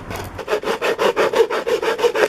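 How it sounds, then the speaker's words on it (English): A hand saw cuts through a plastic bottle in quick, even back-and-forth strokes, about a dozen rasping passes, close and clear with no talk. "So with my saw, I'm gonna saw through this plastic bottle."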